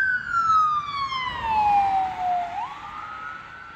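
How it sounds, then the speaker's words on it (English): An ambulance siren wails loudly close by, its falling tone sliding down as the vehicle passes on a city street, with road noise beneath. "Ambulance coming."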